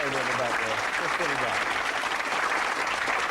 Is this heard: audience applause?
yes